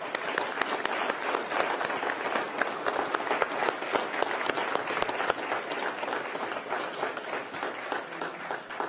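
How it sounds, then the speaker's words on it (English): An audience at a Veterans Day 2019 ceremony gives the veterans a warm round of applause, steady dense clapping that carries on evenly for several seconds with a faint crowd murmur. "I'd like to ask that we give the veterans here a nice warm round of applause,"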